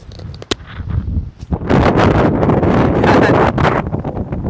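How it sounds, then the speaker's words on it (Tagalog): Strong wind in Little Batanes, Pagudpud, after a powerful typhoon, roaring loudly and continuously into an uncovered microphone, with buffeting gusts that swell and hold steady for several seconds. "Ipaparinig ko sa inyo kung gaano kalakas yung hangin dito"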